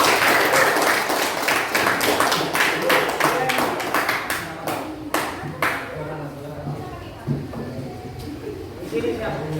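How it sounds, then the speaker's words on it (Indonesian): A classroom audience claps in applause, a burst of many hands clapping close and loud that thins into scattered claps and fades out, with people talking underneath. "Kita beri aplaus untuk"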